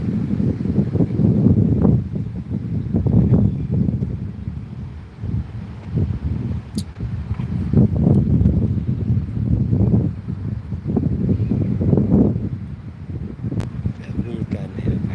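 Steady wind buffets an outdoor microphone at a Thai lakeside park, a continuous low rumbling roar that swells and eases in gusts, with a voice speaking over it throughout.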